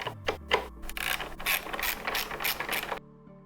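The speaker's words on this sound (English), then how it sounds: "12mm socket on the bolt" A ratchet with a 12mm socket turns a bolt while taking the handrails off a 2024 Triumph Tiger 900 Rally Pro. The clicking is rapid and steady, close up and alone, for about three seconds before it stops.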